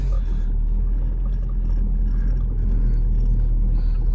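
2008 Ford Focus engine running with worn motor mounts, a steady loud low rumble and hum from close by, constant throughout without obvious revving.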